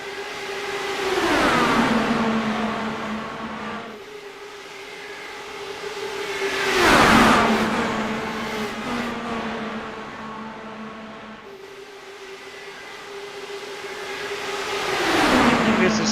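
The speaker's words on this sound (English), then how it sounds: "Love the sound of these Indy cars." IndyCar race cars at Talladega sweep past at speed in three separate waves, each engine note rising to a loud peak and then dropping in pitch as the car pulls away, with a steady drone in between.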